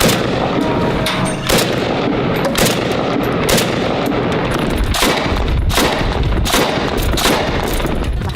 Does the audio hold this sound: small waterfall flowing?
no